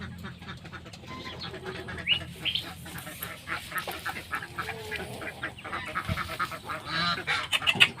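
Geese honk and cackle continuously inside a laying pen, many overlapping calls close by, rising and falling with sharp honks throughout.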